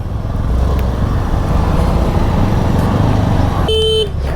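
Heavy, congested road traffic in Prayagraj, India, a loud steady rumble of engines close by, ending with a sharp car horn honk near the finish.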